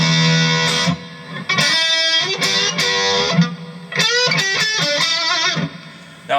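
An electric guitar played through a Peavey VIP-2 amp, with reverb set halfway, rings out in distorted chords and bent single notes, loud and close, with short gaps between phrases.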